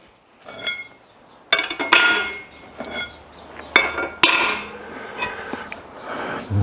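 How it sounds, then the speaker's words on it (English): U-bolts being fitted to the rear suspension of a Ford F100 during a lowering job, giving irregular metallic clinks, taps and knocks, some sharp and ringing, spread across several seconds with quiet gaps between them. "let's get the U-bolts in place"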